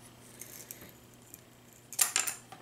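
Scissors cut through small popsicle sticks, a soft fumble followed by a couple of sharp snipping cracks near the end, close and brief, with no voices.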